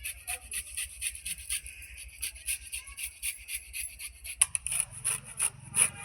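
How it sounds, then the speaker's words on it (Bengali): Beetroot rubbed against a hand grater in a home kitchen, a steady run of rapid rasping strokes close by, each scrape repeating in quick rhythm with a brief clatter near the end. "বিটটাকে ঘষে নিচ্ছি আমি।"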